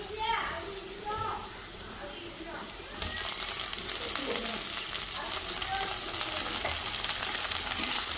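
Halved tomato drops into onions frying in a pan for an egg biryani, and the sizzle jumps noticeably louder and brighter partway through, with stirring sounds and someone speaking over the cooking.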